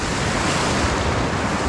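Ocean waves on the beach at Mahahual, a loud, continuous roar of surf with wind buffeting the microphone and no voices.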